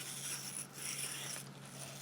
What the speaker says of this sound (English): It's like these toothbrush bristles up against plastic.